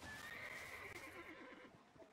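A horse in the Roblox video game neighs with a rising whinny while hooves clip-clop softly underneath, fairly quiet and brief, with no one talking.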